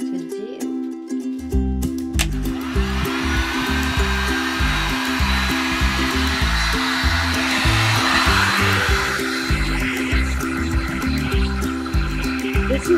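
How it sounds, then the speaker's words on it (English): A heat gun blows hot air over encaustic wax, switching on after a brief moment into a loud, close, steady whooshing roar with a pulsing low hum that continues without a break. "This is a hot gun."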